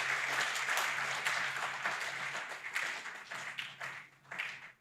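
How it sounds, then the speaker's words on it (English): Conference audience gives a speaker a round of applause, dense steady clapping from a sizable crowd that gradually thins and fades out near the end. "he deserves a big round of applause"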